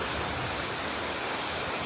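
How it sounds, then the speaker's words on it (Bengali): Steady rain hisses evenly throughout, a dense wash of falling drops with no voices. "দারুণ লাগছে বৃষ্টি হচ্ছে"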